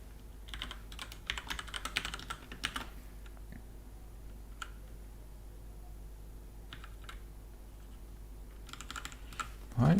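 A mechanical computer keyboard with Cherry Red switches is typed on in fast bursts of keystrokes early on, then again near the end, with quieter gaps between.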